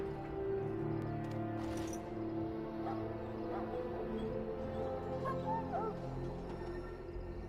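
A hound dog in the Dragon Age video game whimpers and yips softly, faint intermittent whines under a steady game ambience.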